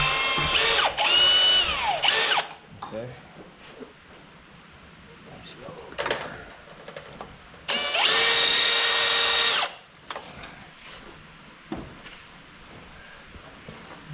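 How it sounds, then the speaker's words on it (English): Power drill on a WoodMizer LT35 sawmill during maintenance, running in two loud whirring bursts with a ratcheting edge, separated by quieter handling clatter and a few short clicks and knocks. "Okay, get our drill bit."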